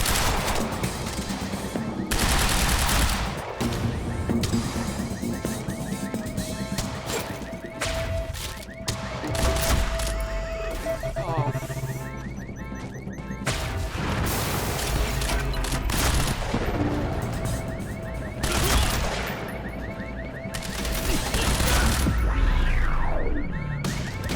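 Gunfire in the Quantum Break video game: dense, sustained automatic bursts and sharp single shots layered over a loud action-scene backdrop, close and intense, running continuously for the whole stretch.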